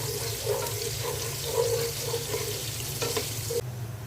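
Cinnamon, cardamom and bay leaves frying with onions in oil, a steady close sizzle with intermittent stirring scrapes and clinks, moderately loud and no voices.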